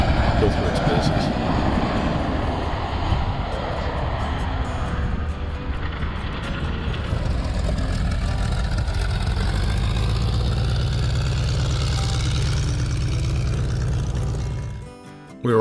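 A Chinook helicopter's heavy engine and rotor roar continuously and loudly, holding a steady drone before dropping away abruptly at the end.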